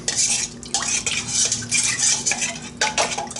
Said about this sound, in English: Put that into the warm water. Mix it around good to let it dissolve.